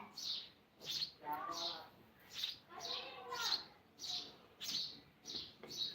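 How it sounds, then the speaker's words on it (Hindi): Small birds chirp and tweet in repeated short bursts at a home while they are fed grain, with rice and water set out, and the calls come close and fairly clear over faint background voices. "देखो देखो चिड़िया, आपको चिड़िया दिखा रहे हैं।"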